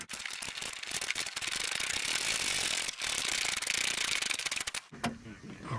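Rapid, loud mechanical rattling of a ratchet or power tool driving 8mm bolts on a 2006-2011 Honda Civic, sustained for several seconds with brief pauses before stopping.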